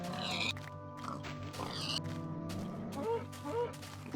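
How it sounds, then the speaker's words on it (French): Short grunting pig oinks from Minecraft 1.7, a few brief snorts scattered over steady background music and sound effects, with a voice talking over them. "Cochon. C'est la seule source de nourriture de Minecraft."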